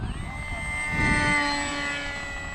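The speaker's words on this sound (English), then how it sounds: "We have one of our club members breaking in a brand new motor" A brand-new gas model aircraft engine running its first break-in tanks lets out a steady, high, buzzing whine that swells slightly in the middle and then eases, heard alone at moderate distance.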